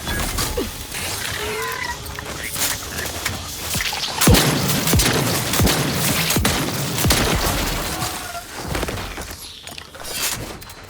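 Gunfire and explosions in The Outer Worlds 2 crack and thump in irregular bursts, with mechanical clanks mixed through a busy, fairly loud combat scene.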